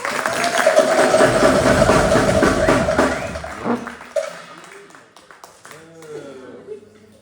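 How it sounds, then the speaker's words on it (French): A crowd applauds at a support-dinner concert, with dense, steady clapping for about three and a half seconds before it thins out and people start talking. "On peut l'applaudir s'il vous plaît"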